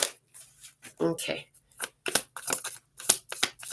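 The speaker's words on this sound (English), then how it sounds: "One more shuffle." A deck of tarot cards is shuffled in a run of quick, crisp riffling bursts and taps, with a person briefly speaking at the start.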